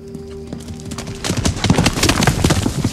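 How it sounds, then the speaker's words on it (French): Hooves of a large white horse galloping on a path beside a field, a dense rapid clip-clop that swells loud and close after a quieter start with a faint tonal hum, and no speech. "J'ai vu un gros cheval blanc sur le chemin à côté du champ. Il courait."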